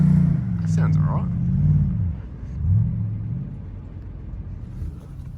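Nissan Y62 Patrol 4WD engine revving while climbing a steep off-road track in low range, a steady low rumble with rises and falls in the revs, and people talking over it.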